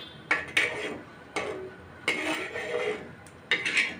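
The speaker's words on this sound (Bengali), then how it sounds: "এখন আমি এই বাটির মধ্যে প্লেটের মধ্যে নামিয়ে নিচ্ছি" Dishes clink and scrape as cooked tomatoes are moved from a bowl onto a plate, several close, bright clatters in irregular bursts with quiet pauses between.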